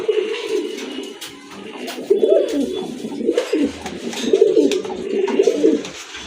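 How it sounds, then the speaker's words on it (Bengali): Pigeons in a collection of fancy breeds coo repeatedly in soft, rolling bursts close by, forming a steady low murmur with faint chirps and rustling in the background. "আরেক জোড়া কবুতর দেখতে পাচ্ছেন এখানে"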